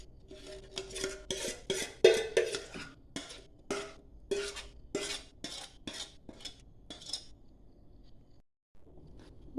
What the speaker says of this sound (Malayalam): ഇത് നന്നായിട്ട് അടി തട്ടാതെ ഇളക്കി കൊടുക്കണം.